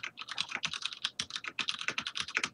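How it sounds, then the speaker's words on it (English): Rapid, steady typing on a mechanical computer keyboard, close and crisp, with a continuous run of sharp key clicks and only a brief pause partway through. "Mechanical keyboards"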